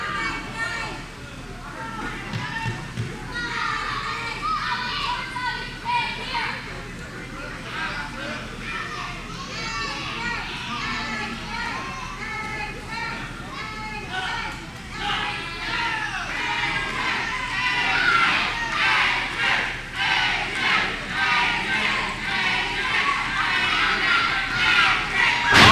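A wrestling crowd at a live match cheers and shouts on and off throughout, growing louder toward the end, while voices talk over it.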